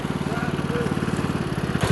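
A Husqvarna riding mower's engine running close by with a steady, pulsing mid-pitched drone that holds throughout, with a brief change near the end.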